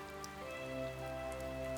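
Night rain falls steadily on a surface, a soft continuous patter under a sustained low tonal hum that runs the whole time.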